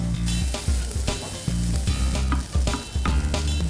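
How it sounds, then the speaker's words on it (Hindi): Coconut, onion and tomato masala for Kolhapuri mutton rassa fries in a pan with a steady, loud sizzle, broken by stirring scrapes at a regular pace, with no voices. "कोकोनट को अच्छे से अभी भून लेना है।"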